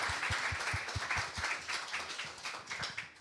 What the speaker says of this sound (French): On peut applaudir le Seigneur pour ça quand même.